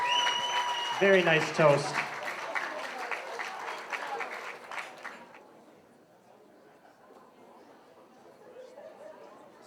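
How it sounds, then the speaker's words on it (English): Wedding guests clap and cheer after a toast, a loud burst of applause for about five seconds that thins and fades, with a voice speaking briefly over it and murmuring chatter lingering afterward. "a nice round of applause for our lovely sister of the groom"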